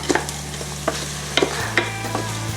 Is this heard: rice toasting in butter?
yes